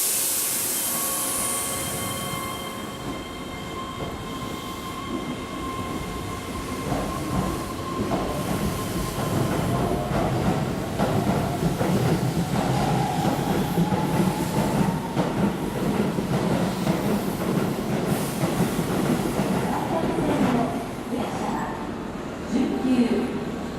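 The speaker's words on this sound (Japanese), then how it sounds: "には特急が先に到着します。" A Keihan express train pulls into Hirakata-shi station during the evening rush, its wheels rumbling and squealing steadily and loudly over about twenty seconds, with faint platform announcements underneath.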